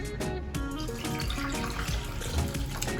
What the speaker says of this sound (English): An easy thing that you can do with avocados is just fill the bowl with water